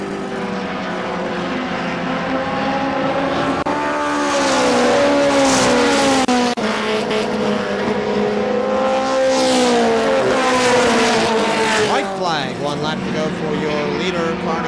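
Race trucks roar around KilKare Speedway, engines droning and shifting pitch as they pass close by, loud and sustained, with an announcer talking over the racing.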